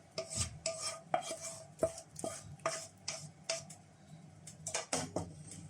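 Homemade gravy for jollof rice with prawns being spooned from one vessel into a cooking pot, quiet repeated clinks and scrapes of a utensil against metal in an irregular rhythm, close and with no talking.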